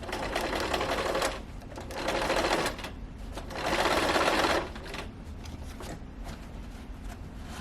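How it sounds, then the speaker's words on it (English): A sewing machine runs a seam along a fabric sofa slipcover in several loud, close bursts of rapid stitching, separated by short pauses as the fabric is adjusted. "I'm meeting back up with another row of stitching"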